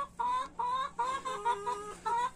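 A Silkie chicken rooster clucks in five or six close, clear bursts in a quick uneven rhythm over a quiet background, with no talking.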